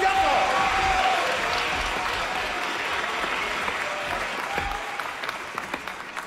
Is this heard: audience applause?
yes